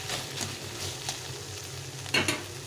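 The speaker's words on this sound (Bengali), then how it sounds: "এইগুলো দিয়ে আরেকটু করে ভালো করে ভেজে নিতে হবে।" Pointed gourd and green chillies frying and being stirred in a pan, a steady sizzle with scraping stirs, close and alone, with a sharper clatter near the end.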